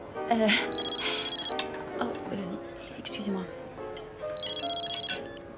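A telephone rings repeatedly in a home as someone talks over it, with clinking dishes and cutlery nearby.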